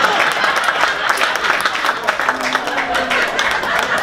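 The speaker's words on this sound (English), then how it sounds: "how about a big round of applause for our sound tech, Lance" At a live comedy show in Las Vegas, a crowd gives a round of applause for the sound technician, brisk clapping under a few voices, loud and close throughout.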